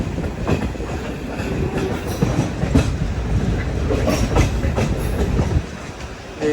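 The Jan Shatabdi Express rolls into Kollam station on platform 2, a steady loud rumble of rail cars with rhythmic wheel clatter over the joints, easing slightly toward the end.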